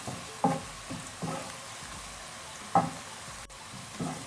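Garlic, ginger and onion fry in a pan for matar pulao with a soft steady sizzle, broken by a few louder scrapes and clinks of stirring.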